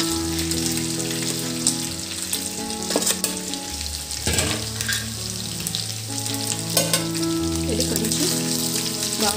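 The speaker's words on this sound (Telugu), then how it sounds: "ఫ్రై అవ్వాలండి." Chicken pieces with garlic, salt and chili powder frying in oil in a pan, giving a steady, soft crackling sizzle with scattered pops throughout.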